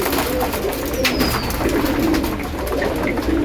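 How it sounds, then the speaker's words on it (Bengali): A flock of female pigeons, including a home-bred Teddy, coos in a loft during hot weather, with steady soft low cooing from several birds close by and no talk. "এগুলো সব আমার মাদি কবুতর।"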